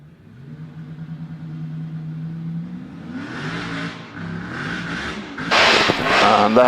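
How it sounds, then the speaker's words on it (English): A 16-cylinder BRM race car revs at a hillclimb, its engine rising from a steady drone into louder, harsher bursts of throttle, getting closer and more intense toward the end. "that sounds distinctly like a 16-cylinder BRM to me that is about to make its way out onto the track"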